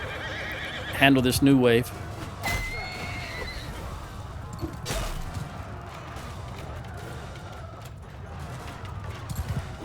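Horses neigh and whinny amid a Mount & Blade II Bannerlord battle with horse archers and infantry, one loud whinny rising early over clattering hooves and combat noise, with a voice talking over it.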